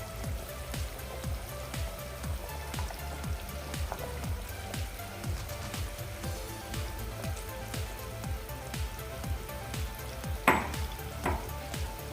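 Boiling mackerel curry bubbles and sizzles steadily in a pot, with a couple of soft splashes near the end as mackerel pieces are dropped in.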